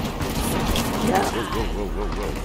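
Weapon reloading in a video game, heard as mechanical clicks and ratcheting over steady game noise, with a voice talking over it.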